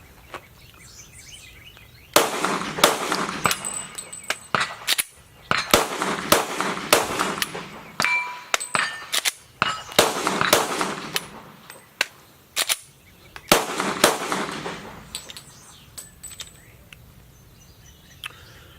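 Live handgun fire at a shooting range during a tap-rack-bang malfunction drill, with loud, sharp reports coming in irregular clusters over several seconds, separated by short quieter pauses.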